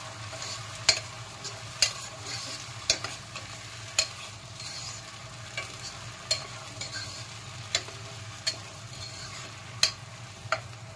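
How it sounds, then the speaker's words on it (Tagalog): Sardines sizzle and fry in a pan for breakfast odong with sardines, a steady crackling hiss broken by regular sharp clinks of a utensil stirring against the pan. "Sunod, ibuhos na natin ang ating sardinas."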